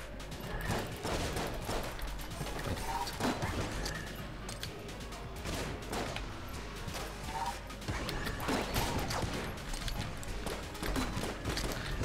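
Grenade fire in Enter the Gungeon, a busy stream of repeated impacts and blasts at a moderate level, irregular and clustered across the whole stretch, with no speech.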